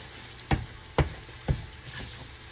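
Crab meat fried in butter in a pan, where a soft steady sizzle is cut by three evenly spaced scraping stirs close by.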